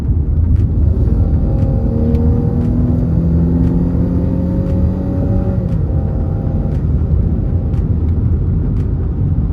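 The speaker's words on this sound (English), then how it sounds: "Quick little test drive." A 2023 Chrysler 300 on a test drive gives a loud, steady engine and road rumble from inside the cabin, with rising and falling engine tones as it speeds up and a few faint ticks.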